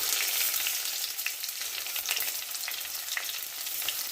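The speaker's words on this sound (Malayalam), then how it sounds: "കടുകൊന്ന് പൊട്ടട്ടെ കടുപ്പ് പൊട്ടിയിട്ടുണ്ട്" Steady crackling sizzle of mustard seeds popping in hot oil, with scattered sharp pops across a dense hiss, close and continuous without talk.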